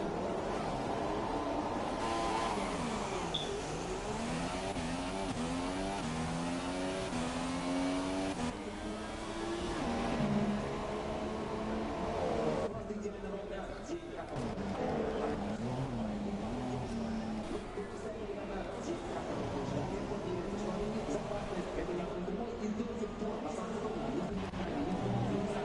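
Several F1 cars in a racing video game pull away together at the start of a formation lap, engines revving and droning in overlapping rising and falling tones, loud and continuous throughout with a commentator's voice over them.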